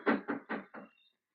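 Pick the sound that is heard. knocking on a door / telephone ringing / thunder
knocking on a door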